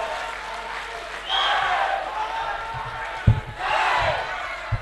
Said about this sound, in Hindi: दोनों हाथ हवा में उठाकर तालियां बजा दो।